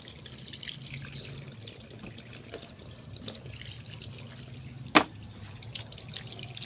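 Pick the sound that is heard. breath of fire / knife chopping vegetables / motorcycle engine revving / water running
water running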